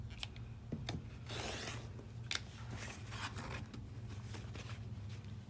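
Scissors trim embroidery fabric with quiet, close snips and rustling cuts scattered over a few seconds against a faint steady hum.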